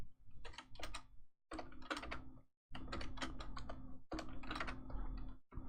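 Bursts of computer keyboard typing entering network commands on a PC, clattering keys in four dense runs separated by short pauses, close and fairly loud with no talking.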